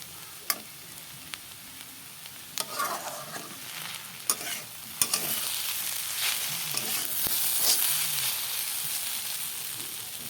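Potatoes fry in a pan while being stirred, a steady sizzle swelling louder through the second half, punctuated by sharp scraping clicks of the spatula against the metal, close and without voices.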